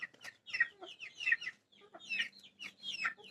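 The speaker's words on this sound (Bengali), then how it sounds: "দেখুন আমাদের কত মুরগি আছে।" Several chickens cluck and chatter in a close, busy farmyard coop, with overlapping calls in short irregular bursts and brief pauses, no talking over them.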